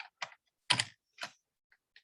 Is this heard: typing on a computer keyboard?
yes